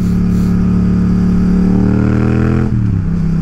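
A Yamaha MT07 motorcycle with a loud Akrapovic exhaust roars steadily up close, its engine note climbing slowly before dropping sharply near the end.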